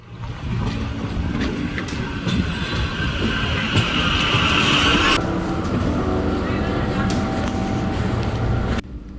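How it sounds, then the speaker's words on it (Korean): Steady rumble of a passenger train carrying riders back to school, with a continuous loud rolling drone and faint rattles and clicks from the carriage. A brief higher hiss rises midway, and the sound cuts off abruptly near the end. "학교로 돌아가는 기차를 탑니다"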